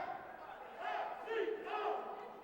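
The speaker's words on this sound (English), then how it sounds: "Cheerleaders in the crowd chanting" Cheerleaders chant from the stands at a women's college basketball game between Jefferson College and State Fair CC: three rhythmic shouted bursts rise over a murmuring arena crowd, moderately distant.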